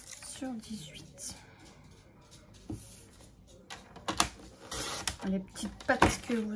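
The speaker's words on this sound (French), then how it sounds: "Les petites pattes que vous entendez, c'est mon chien." Light, irregular clicks and taps of a dog's paws moving across a parquet floor, mixed with soft, quiet speech.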